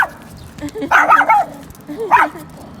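A small dog barks twice outdoors, each a sharp, fairly loud yap about a second apart, with a person's voice talking around them.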